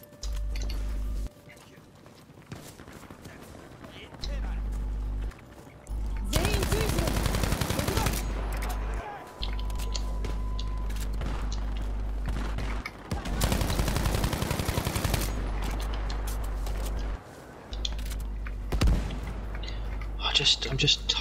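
Gunfire in Battlefield V comes in several loud bursts of rapid shots separated by quieter stretches, with people talking between the volleys.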